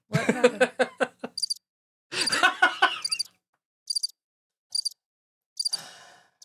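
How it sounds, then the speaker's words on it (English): Short, bright cricket chirps sound in evenly spaced bursts, after a stretch of laughter and voices, then continue alone in a quiet room. "Got the crickets on that one."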